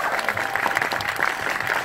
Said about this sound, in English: I think this group and everyone else who worked on the film needs another round of applause.